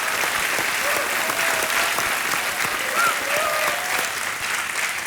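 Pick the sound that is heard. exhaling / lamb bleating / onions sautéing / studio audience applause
studio audience applause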